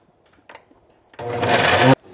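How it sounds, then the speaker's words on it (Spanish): A kitchen blender grinds salsa made with garlic, clove and pepper, starting after a few faint knocks and roaring loudly and evenly for under a second before cutting off abruptly. "Y ahora a moler la salsa."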